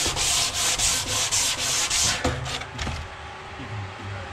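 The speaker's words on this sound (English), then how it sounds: "I just have a little sand. Take the sharp edges off." Sanding the sharp edges off a piece of wood by hand, a steady rhythmic rasp of strokes for about two seconds, then a few slower, scattered rubs, close and fairly loud with no talking.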